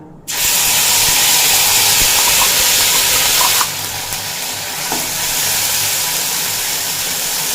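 Ground spice paste hits hot oil that already holds fried whole cumin for a Bengal potol (pointed gourd) curry, setting off a loud, steady sizzle that starts abruptly and eases slightly partway through.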